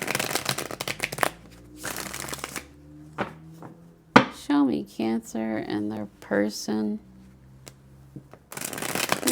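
Tarot cards are shuffled in quick riffling bursts at the start and end, with someone speaking calmly in between, the shuffling crisp and close.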